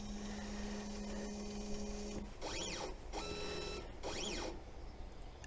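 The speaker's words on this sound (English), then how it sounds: "If I press home, you can see the spindle, it's going to home." A Sainsmart 4040 Pro CNC machine drives its spindle back to home. A steady hum gives way to several short, quiet bursts of whirring stepper motors that rise and fall in pitch as the axes move.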